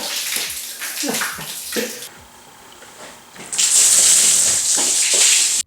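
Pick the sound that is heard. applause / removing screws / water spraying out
water spraying out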